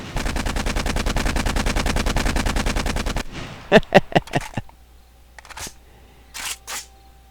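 Automatic rifle in the game 7 Days To Die fires a rapid sustained full-auto stream for about three seconds, then a few short bursts of shots follow, loud and close.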